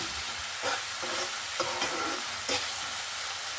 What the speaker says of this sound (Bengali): আদা রসুনের পেস্ট যে এটা দিয়েও আমি ভালো করে কষিয়ে নেব